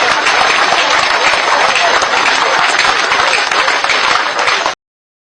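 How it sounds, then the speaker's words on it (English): An audience breaks into sustained, loud applause at a political gathering, steady clapping from a crowd that runs for several seconds before cutting off abruptly. "Let us clap for him."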